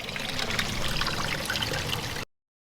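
Water from a leaking garden pond waterfall trickles and splashes steadily down the sides into the ground, a close, continuous broadband dribble with no talking.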